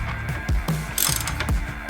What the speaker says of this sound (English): all I'm doing here is evenly torquing these down